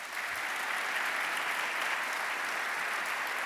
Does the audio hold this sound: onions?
no